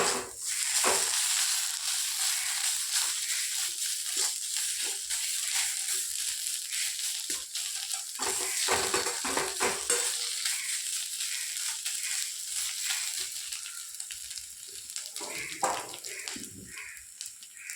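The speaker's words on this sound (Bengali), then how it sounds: "দু তিন মিনিটের মতো ভেজে নেব এটা পটলের খোসাটাকে" Pointed gourd peels fry in a pan with a continuous moderate sizzle, broken by occasional scraping stirs, and no voices are heard.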